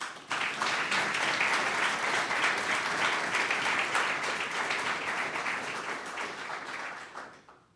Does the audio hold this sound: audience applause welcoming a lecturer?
yes